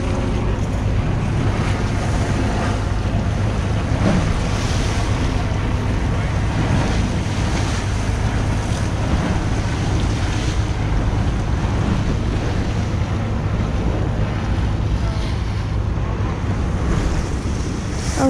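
Steady wash of waves and gusting wind buffeting the microphone at a pier on the Hudson River in the West Village, a continuous, fairly loud roar with no break across the whole stretch.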